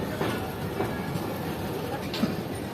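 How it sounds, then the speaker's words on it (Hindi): The Sir Syed Express rolls out of Rawalpindi railway station platform 3, a steady low rumble of the moving train heard from onboard, with voices talking faintly over it. "रावलपिंडी रेलवे स्टेशन का प्लेटफॉर्म नंबर 3 छोड़ दिया है ट्रेन ने।"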